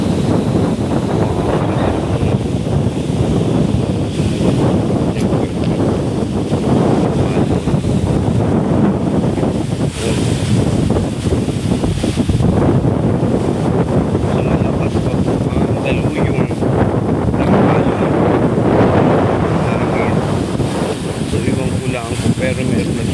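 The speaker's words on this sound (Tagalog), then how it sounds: "Maabot na tawag dito, alon." Strong wind buffets the microphone on a beach over the constant roar of rough sea waves crashing nearby, loud and continuous, with a voice talking intermittently underneath.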